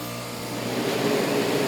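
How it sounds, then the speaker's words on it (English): A vintage Whirlpool 10,000 BTU window air conditioner runs with its compressor and large fan motor, a steady close hum and rushing drone that swells slightly. "And turn the compressor on. Oh wow. It doesn't sound too bad. It has a huge fan motor in it."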